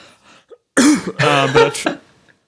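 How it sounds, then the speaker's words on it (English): A single loud, forceful cough with a raspy throat-clearing quality, close to the microphone, followed by a short pause of near silence. "Big cough."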